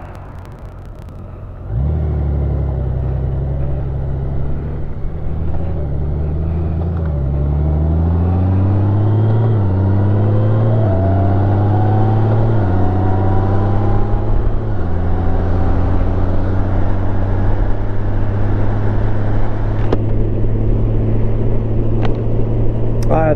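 Interior of a Ford Focus on a drive home through steady traffic: a constant low engine and road rumble rises after the first two seconds, with smooth upshifting engine tones climbing and settling, heard close and continuous.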